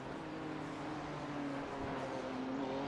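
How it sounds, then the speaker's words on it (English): BMW GT3 race car engine at Sebring in a racing video game, a steady sustained drone with a low harmonic hum that holds at a constant, moderately distant level throughout. "Do love the sound of that BMW."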